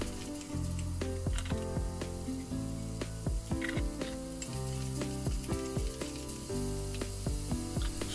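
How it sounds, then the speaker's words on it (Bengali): Carrots and peas fry with cashews and raisins in a pan for fried rice, a steady close sizzle overlaid with repeated scraping and clattering strokes of a spatula stirring. "সবজিগুলো ভালো করে ভাজা হয়ে গেছে"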